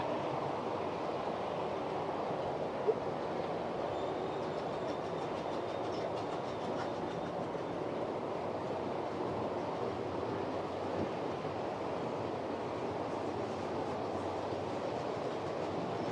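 A model train locomotive runs on a layout, giving a steady, continuous rolling rumble with faint rhythmic clicking that holds level throughout, with no voices.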